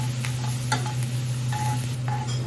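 An egg puff filling sautés in a pan while being stirred. A steady sizzle with a low hum underneath continues throughout, with occasional light scrapes and taps of the spoon against the pan and no talking.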